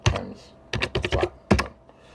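Quick bursts of keystrokes on a computer keyboard, clustered in short rapid runs with brief pauses between, close and clear with no voices.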